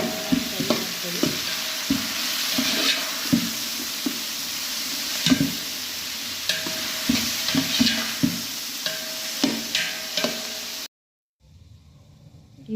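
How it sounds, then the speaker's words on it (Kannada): Onions, dry red chillies, sugar and turmeric fry in a pan for bisibele bath, a continuous sizzle broken by repeated scraping knocks of a stirring spoon, then a sudden cut to near silence. "ನಂತರ ಈರುಳ್ಳಿ ಮತ್ತು ಒಣಮೆಣಸಿನ್ಕಾಯಿ, ಸಕ್ಕರೆ, ಸ್ವಲ್ಪ ಅರಿಶಿನ ಪುಡಿ, ಇಷ್ಟು ಎಲ್ಲ ಫ್ರೈ ಮಾಡ್ಕೊಳ್ಳಿ"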